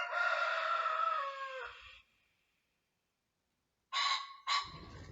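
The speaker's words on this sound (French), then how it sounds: "ça, c'était le coq et puis vous avez entendu le faisan" A rooster crows one long, loud call that fades out, then after a silence two sharp bird calls ring out.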